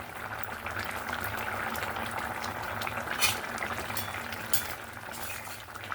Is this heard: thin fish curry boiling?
yes